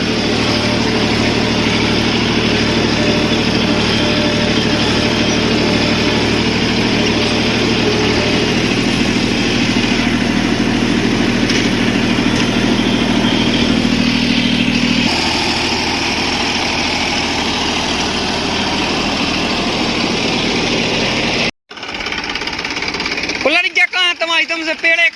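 A tractor engine on a farm being readied for soybean sowing idles with a steady, loud diesel rumble for about twenty seconds, then cuts off abruptly, leaving brief quieter rustling.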